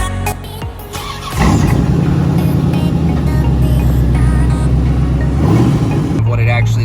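A 1992 Corvette V8 fires up and settles into a loud, steady low rumble close by, with talk over the engine throughout.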